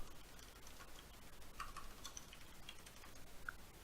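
Keys are typed on a computer keyboard in a few faint, scattered clicks over quiet room hiss.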